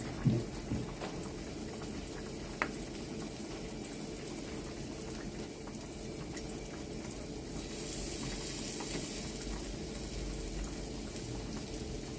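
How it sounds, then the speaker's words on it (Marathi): Squid sizzles on a hot griddle with a steady, crackling hiss, a few sharper pops breaking through now and then. "आता आपण फ्राय करून घेऊया. इथे तवा देखील तापत ठेवलेला आहे."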